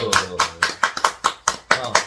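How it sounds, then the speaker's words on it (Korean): A small group claps in a steady rhythm of about nine sharp, close claps after a kimchi-making session at a weekend urban farm plot, loud and distinct. "박수!"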